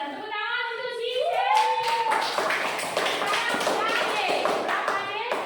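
A classroom of students claps for a classmate: quick, dense rhythmic claps rise under children's voices and a teacher's speech.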